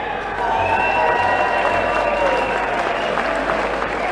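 Loud, sustained applause from a crowd welcoming the St. Sebastianus shooting guild from Mheer, ninth place at the 2019 OLS in Sevenum, with music faintly underneath.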